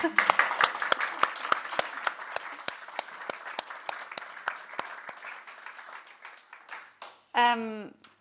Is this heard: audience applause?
yes